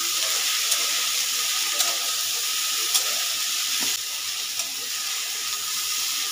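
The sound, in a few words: frying potatoes with onion, garlic and spices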